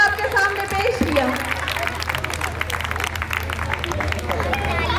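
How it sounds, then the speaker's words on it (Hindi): Church audience applauding a children's Sunday school play, steady clapping mixed with crowd murmur, moderately loud and continuous, with some voices in the background. "जोरदार तालियां बजाएंगे, बच्चों की हौसला अफजाई करेंगे"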